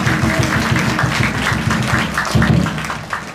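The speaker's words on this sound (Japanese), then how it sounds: "大きな拍手をお願いいたします。" Spectators at a JFL football match between Suzuka Point Getters and FC Kariya applaud a player after a post-match interview, loud continuous clapping close by, with a low voice briefly underneath.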